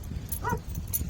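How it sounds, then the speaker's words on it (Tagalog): A dog gives a short, whiny yip or bark at moderate distance, a single brief call in the middle of a low background rumble. "Nandito yung dalawang aso."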